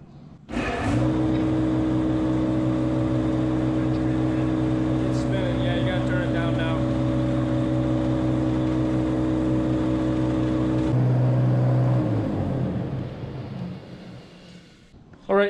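A farm silo unloader, just repaired with a new bolt and nut, starts up and runs with a steady droning motor hum for about ten seconds before its tone shifts and winds down; voices are faintly present.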